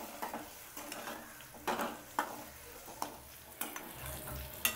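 Whole boiled eggs fry in oil in a pan for Hyderabadi egg dum biryani, giving a soft steady sizzle broken by repeated scrapes and light clinks of a utensil stirring against the pan.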